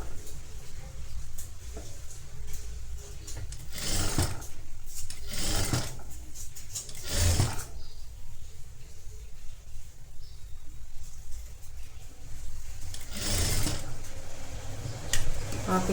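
A sewing machine stitches a folded cross piece on a designer blouse, running in a quiet mechanical whir broken by several short, louder bursts of stitching, with intermittent talk.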